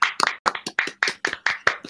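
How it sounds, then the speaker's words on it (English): A small group clapping together in a steady rhythm, about eight sharp, close claps over two seconds with no voices. "Or we could just all clap."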